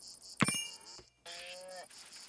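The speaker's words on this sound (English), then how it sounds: "we have quite a few goats" Goats bleat in the medieval colony-building video game Going Medieval: one short, sharp cry followed after a pause by a longer wavering bleat, fairly quiet against faint background game sound.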